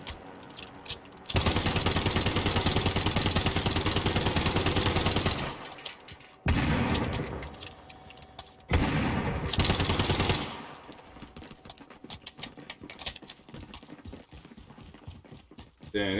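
Rapid automatic gunfire from a multiplayer shooter video game, loud sustained bursts broken by short pauses, with players talking over the shooting.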